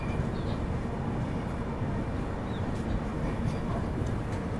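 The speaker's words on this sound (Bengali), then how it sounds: "ছেড়ে দিল আমাদের ট্রেনটি কাটপাটি জংশন রেলওয়ে স্টেশন থেকে।" The Vivek Express pulling out of Katpadi Junction, heard from on board as a steady low rumble and rolling rail noise, with a few faint high squeals over the constant drone.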